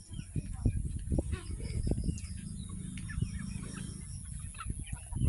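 Chickens, including a white hen, cluck repeatedly in a rural yard, moderately near, with irregular bursts of low clucking and some voices talking in the background.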